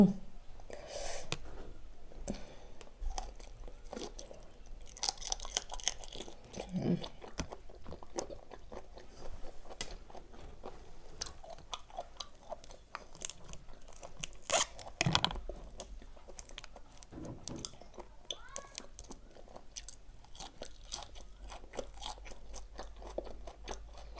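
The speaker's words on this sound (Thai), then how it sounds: "มันเคี้ยวไม่ค่อยขาดอะเนาะ" Large raw jumbo shrimp in a fiery Thai pounded salad is chewed up close, with wet crunching and biting in an irregular, steady rhythm and no talking.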